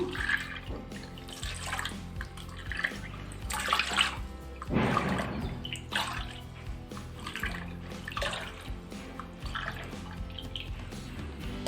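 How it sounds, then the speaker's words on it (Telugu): Water splashes and trickles into a vessel holding rice flour in uneven pours, with drips and a few louder gushes, close up and without talk. "వాటర్ పోస్తున్నాను."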